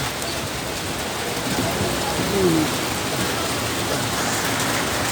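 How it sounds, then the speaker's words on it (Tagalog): A heavy downpour hisses steadily and densely up close, with a faint low rumble and a brief squeak partway through. "Biglang lumakas ang ulan."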